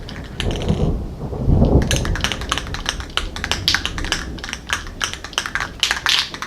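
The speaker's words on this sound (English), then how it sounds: "And yes, that was thunder you just heard." Thunder rolls in a deep, swelling rumble during steady rain, followed by dense, irregular pattering and tapping of raindrops close by.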